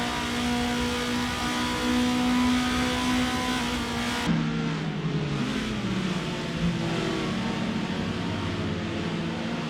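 Vintage touring car engines roar steadily in a racing video game, with a Lada among the AI-driven field at Mas du Clos; a loud constant drone shifts pitch partway through as cars pass and change gear.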